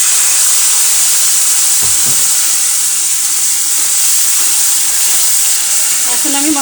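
Hot water is poured onto spices frying in a pan for a shrimp and Malabar spinach dish, making a loud, continuous steamy hiss. The hiss stays strong from start to finish, with faint clinks and stirring beneath it.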